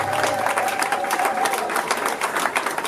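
Wedding guests break into dense, steady applause with a murmuring crowd beneath it as the cake is cut. The clapping carries on evenly and fairly loud for the whole stretch.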